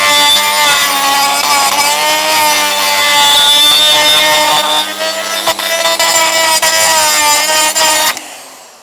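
A rotary cutter grinds an aluminium alloy engine sump, with wax applied to the cutter so it does not clog. Loud, continuous, harsh grinding runs steadily for about eight seconds, then cuts off abruptly.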